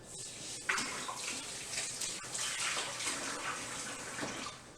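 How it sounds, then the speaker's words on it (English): Cold tap water runs steadily over hands at a kitchen sink while making pizza dough, a continuous close hiss and splash with small surges as the hands move through the stream. "run your hand under cold water."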